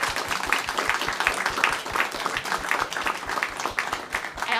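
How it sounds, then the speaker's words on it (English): An audience applauding at a storytelling event, steady dense clapping from a crowd in a hall, moderately distant and continuous throughout. "One more round of applause for these folks."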